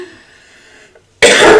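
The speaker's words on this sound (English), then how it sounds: "Here we are with the cough again." A single short, loud cough bursts out abruptly after a quiet stretch, close to the microphone and heard alone.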